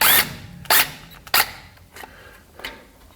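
A power tool zips off the rear axle cover bolts of a 1982 Chevrolet C10, firing in three or four short, loud bursts separated by brief pauses, with fainter clicks and clanks between them.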